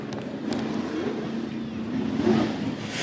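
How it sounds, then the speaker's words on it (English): Pro truck racing past on the pit road of a dirt raceway, a moderate engine roar that builds near the end amid ambient track noise and faint background voices. "Charles, the number 3 truck just came roaring by me on pit road"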